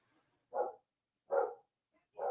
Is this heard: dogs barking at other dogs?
yes